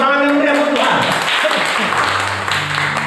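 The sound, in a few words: church congregation applause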